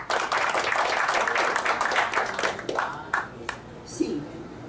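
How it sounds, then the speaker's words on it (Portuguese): A burst of applause from a room full of people at a Rotary Club meeting in Florianópolis, loud clapping that thins out after a few seconds, with a voice speaking near the end. "Solicito uma salva de palmas aos aniversariantes da semana."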